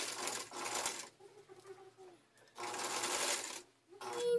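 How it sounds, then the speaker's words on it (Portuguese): A sewing machine runs a seam along a blouse in two loud bursts of rapid stitching, separated by a quieter pause with a little background clatter. "E agora é só passar uma costura aqui em cima."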